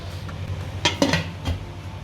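A metal lid set down on a pot of tapioca halwa, a few short clinks and clatters of cookware close by, with no talking.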